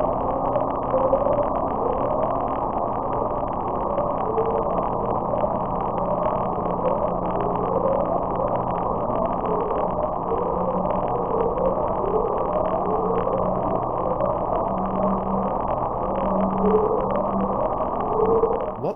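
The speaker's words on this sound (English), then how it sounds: "The sound, named Upsweep, has appeared on underwater microphones or hydrophones since the US Navy's SOSUS sonar array began recording in August of 1991." Upsweep, the unexplained deep-ocean sound from the Pacific picked up by a Navy SOSUS hydrophone array, heard as a steady, dense low rumble with faint repeating rising sweeps running throughout, continuous and unbroken.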